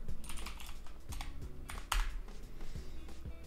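An email address being typed on a computer keyboard, a steady run of close, crisp key clicks with a firmer keystroke near the middle, no voices over it.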